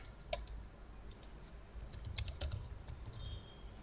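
Typing on a computer keyboard while coding in the Sublime Text editor, heard as quiet, close, irregular key clicks with short bursts and pauses, a denser flurry in the middle, and no talking.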